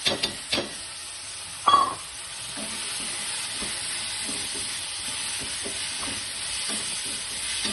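Ridge gourd frying in oil for a home-style curry gives a steady close sizzle, broken early on by a few sharp knocks and a loud scrape of stirring, then settling into constant crackling hiss.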